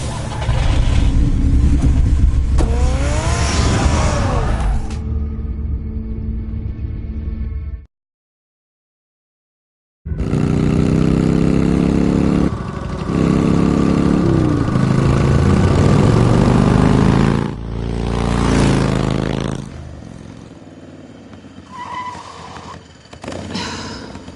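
Batmobile from the Batman Telltale video game driving off, a loud sustained engine roar with shifting pitch, broken by a brief silent gap partway through, then continuing with surging revs.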